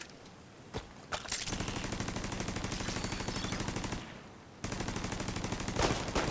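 A deployed automated turret in The Division 2 fires long, rapid, even bursts at mid distance, with a brief pause partway through before it resumes, accompanied by a couple of sharp single shots.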